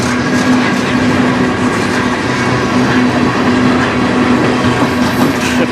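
CN freight train with many tank cars passing at night in Sarnia, Ontario, a loud continuous rolling rumble with rattling wheels and a steady tonal hum, close by and without talking.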